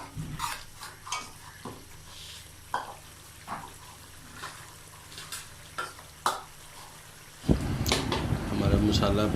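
Masala being fried for gobi gosht gives a soft sizzle with intermittent stirring scrapes, and then a loud surge of bubbling hiss near the end as beef stock hits the pan.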